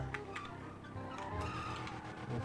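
A car in GTA 5 is driven hard, its tires skidding and squealing over a continuous engine roar in a dense, steady game mix.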